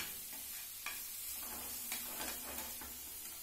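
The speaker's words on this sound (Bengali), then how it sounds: "আমি একটু তেলের মধ্যে আবার ভালো করে ভেজে নিচ্ছি" Onion, ginger and garlic frying in oil in a pan for a pointed gourd dish, a steady close sizzle with occasional stirring scrapes and small clicks, no talking.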